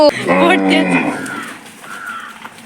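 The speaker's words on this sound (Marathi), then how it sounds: "हे आमचं छोट वासरू सुटलंय आणि ते बघा काय खातंय माती तो डेबू" A young calf that has slipped loose on a farm moos loudly and close by in a short series of harmonic calls, the sound fading toward the end of the clip.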